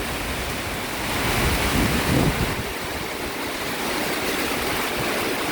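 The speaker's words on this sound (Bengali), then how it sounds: "এটা হচ্ছে পূর্বাচল, প্রচুর বৃষ্টি হচ্ছে এখানে।" Heavy rain pours steadily in Purbachal, a dense broadband hiss with a slight swell midway, heard alone without talk.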